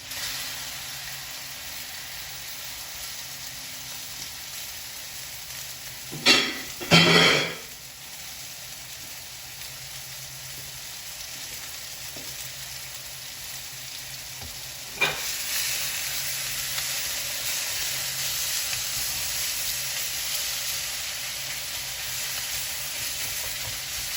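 Pork for fried rice hits a very hot pan with a steady, faint sizzle, interrupted by a few sharp scraping bursts of stirring and a later jump to a louder hiss.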